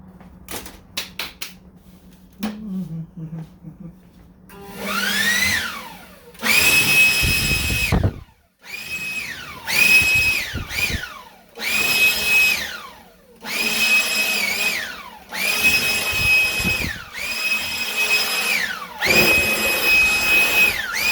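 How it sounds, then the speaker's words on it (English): Compressed air blasts dust off the bodywork of a 1969 Corvette C3 during body repair in a shop, in about eight loud, hissing bursts of a second or two each, growing longer and more sustained toward the end. "Let me just blow this down, blow this all out."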